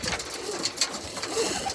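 Pet pigeons or doves cooing at feeding time, several soft repeated coos close by, fairly quiet and alone.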